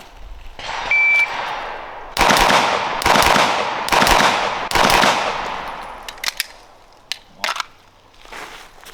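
Rapid bursts of gunfire from a firearm during a trigger comparison test at a shooting range: four loud, broadband blasts of sustained rapid shots a few seconds apart, followed by a few sharper isolated cracks and fading echo.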